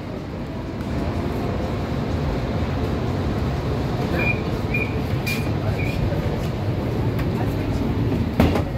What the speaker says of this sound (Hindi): ये आ गई हमारी 6 नंबर ट्राम